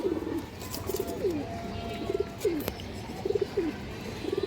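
Pigeons cooing at a pigeon farm: repeated soft, throaty coos come in short bursts at a fairly even rhythm, close and clear over low background noise.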